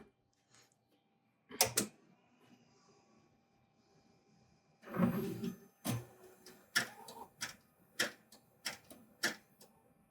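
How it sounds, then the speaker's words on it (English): Mimaki CJV150-75 wide-format eco-solvent printer/cutter running a nozzle test, faint quiet whirring punctuated by a series of sharp clicks and clacks, sparse at first then coming in a rapid irregular run. "I'm going to do a nozzle test real quick just to show you everything's kosher"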